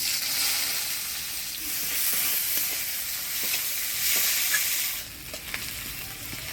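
Chopped onion frying in hot oil with dried red chilli, cumin and bay leaf for a Bengali bhola fish curry, a steady close sizzle with occasional stirring scrapes and no talk.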